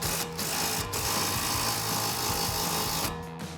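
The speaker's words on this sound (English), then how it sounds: "we're gonna grab our impact and 18 millimeter socket and take our nut off our sway bar link here" An impact wrench with an 18 millimeter socket removes the sway bar link nut on a 2015-2025 Mustang, giving a loud continuous buzzing hammer close by that runs steadily for about three seconds before stopping.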